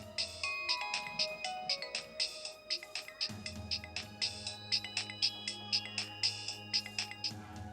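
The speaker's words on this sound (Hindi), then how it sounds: "तुम्हारा फोन।" A mobile phone ringtone plays alone, a bright repeating melodic tone pattern that loops steadily at moderate volume, with a fuller backing layer joining partway through.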